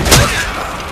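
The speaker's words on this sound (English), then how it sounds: "This is like explosion. It kind of destroyed everything in my path right there." An explosion in the video game Dragon Nest bursts as a short, loud broadband blast that quickly fades into a rumbling tail, lasting about a second.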